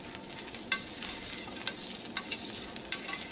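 Butter meunière with parsley sizzles steadily in a small pan, a close, dense frying crackle with faint stirring scrapes and occasional louder pops.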